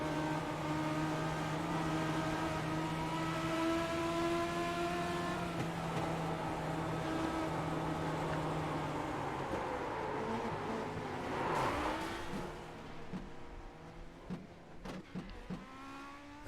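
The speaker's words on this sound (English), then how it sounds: "You heard him try and turn that car, and the tires started to squeal." A Legends race car in the Ontario Legends eSeries sim racing game drones along on a steady engine note, then its tires give a brief squeal as it turns hard, and the engine drops away to scattered quieter sounds.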